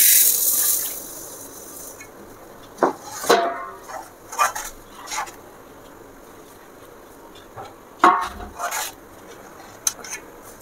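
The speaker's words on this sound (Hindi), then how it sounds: "इसमें थोड़ा सा पानी भी ऐड करती हूँ" Water poured into thick besan batter for kadhi in a home kitchen, heard as a few short splashing pours and clinks spread across the stretch, moderately close with quiet gaps between.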